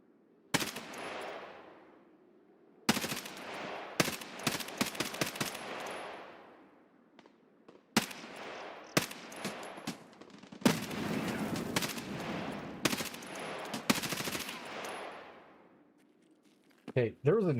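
Full-auto rifle bursts in the video game Escape from Tarkov near an abandoned factory, repeated sharp rapid-fire volleys separated by short pauses, with a grenade blast going off close by.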